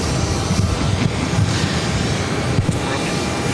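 An airplane takes off from runway 22 right at Boston Logan airport, its engine roar loud, steady and broadband throughout, with no voices over it.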